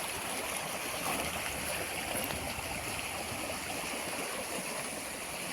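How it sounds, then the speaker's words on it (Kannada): A stream flows beside green farmland about 90 km from Bangalore, a steady, faint rushing of water that continues evenly without pause or talk. "ಈ ಹೊಳೆಯಿಂದ ಪ್ರತಿನಿತ್ಯ ಬರುವಂಥ ನೀರು"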